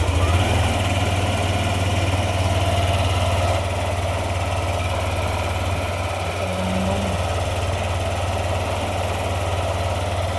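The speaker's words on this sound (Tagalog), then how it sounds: "At habang umaandar ang motor, medyo may kataasan talaga ang kanyang minor." A Yamaha NMAX 155 V2 scooter engine idles at a raised speed, a steady low hum with constant vibration holding even and close throughout, with no talking.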